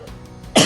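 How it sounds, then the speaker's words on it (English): A single sharp, loud cough from someone with a bad cough bursts out at the end after a moment of low background murmur, close to the microphone. "I told you I have a bad cough."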